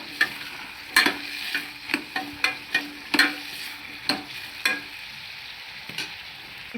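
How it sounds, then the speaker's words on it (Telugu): A spoon stirs cashews with turmeric and salt in a cooking pan, making a steady series of scraping, tapping strokes over a soft sizzle, close and alone without talk. "కొంచెం పసుపు, రుచికి సరిపడా ఉప్పు వేసిన తర్వాత బాగా కలబెట్టాలి."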